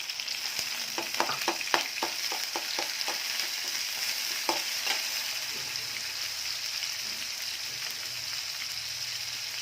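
Shrimp dropped into hot oil with lightly fried onion and green chili in a pan, giving a steady broadband sizzle with a quick run of clicky stirring scrapes near the start, then continuous frying hiss.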